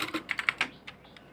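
Quick, close keystrokes on a computer keyboard as a database command is typed at a command line, a short run of crisp clicks followed by a few lighter taps.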